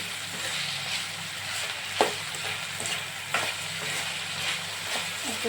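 Ivy gourd (dondakaya) fry stirred in a pan, a steady close sizzle with a few sharp spatula scrapes and clicks against the metal, no talking.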